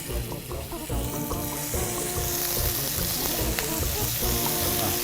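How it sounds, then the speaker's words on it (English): Meat sizzling in olive oil in a pan for a ragù sauce, a steady close frying crackle with some watery clatter and scraping throughout, no talk. "before putting the meat in, we need to roast it to make it take out the flavor"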